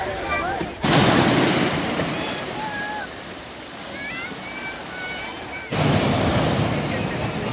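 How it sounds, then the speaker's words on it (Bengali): Sea waves surge and break loudly on Digha beach, a continuous roaring wash with heavy surges near the start and end, under wind buffeting the microphone and occasional distant voices and whistles of people on the shore. "এই যে আবারও ঢেউ জোরে আসছে"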